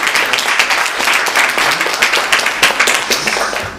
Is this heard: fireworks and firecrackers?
no